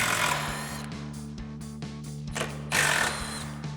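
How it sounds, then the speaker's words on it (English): A power tool with a 13mm socket backs out bolts on a Jeep Wrangler JK soft top, a steady whirring hum broken by short bursts of ratcheting and clicking, close and fairly loud, with no talk. "We'll grab our 13mm socket and pop both of these out"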